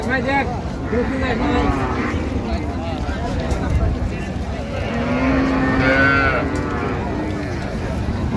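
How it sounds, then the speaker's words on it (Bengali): Cows and calves moo several times, long drawn-out calls rising over a busy, noisy background of people talking at Raniganj cattle market in Dinajpur. "সুন্দর গাভী বাছুর আমরা দেখছিলাম এখানে"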